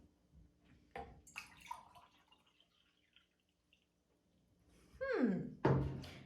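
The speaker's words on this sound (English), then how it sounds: "I'm also gonna fill this cup up" Water poured into a cup during a classroom measurement demonstration, with quiet trickles and clinks early on, then a louder rising pour near the end as the cup fills.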